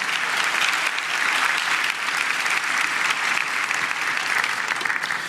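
Steady, dense audience applause fills a large hall at a county government State of the County address, loud and sustained for several seconds with no speech over it.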